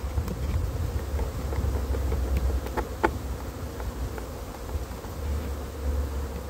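A colony of honey bees buzzes around hive frames, a thick unbroken drone nearby, with a few faint clicks and taps partway through and no speech.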